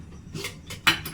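A metal cooking pot clanks down onto a hard surface, followed by a couple of brief metallic clinks.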